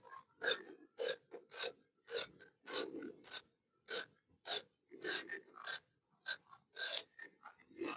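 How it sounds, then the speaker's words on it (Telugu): Scissors snip through folded chudidar fabric in a quick series of crisp, rasping cuts, each a short burst with brief gaps, close and clear without speech. "ఇది కొంచెం ఫోల్డింగ్ ఉన్నది కట్ చేసేస్తున్నాను"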